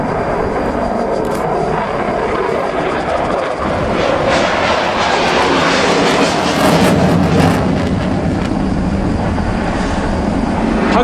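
A Saab JAS 39C Gripen fighter of the Hungarian Air Force in a flying display at RIAT 2013, giving a loud continuous jet roar that swells and rumbles throughout, with no talk.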